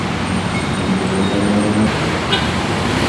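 Road traffic on Quezon Avenue rumbles in a dense, steady wash of engine noise, with faint honking horns under it, close and loud, with no talk.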